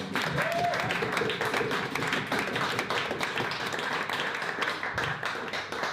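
Live audience applauding a performer at a cabaret-style musical duet show, a steady dense wash of clapping that holds for the full stretch at moderate volume with a faint tone and some murmuring underneath.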